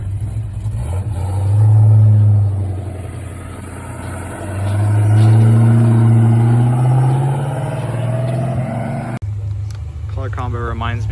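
Show cars pulling away one after another from a Memorial Day car show, engines swelling loud as each passes close, with people talking nearby throughout.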